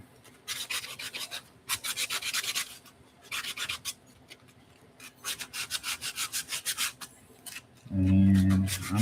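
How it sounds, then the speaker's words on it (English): Wooden piece hand-sanded with 220 grit sandpaper that is still wet with isopropyl alcohol, heard as close, rhythmic bursts of back-and-forth rasping with short pauses between strokes. A louder low rub comes at the end. "it does clog the sandpaper a little bit faster whenever it's still got the isopropyl on it"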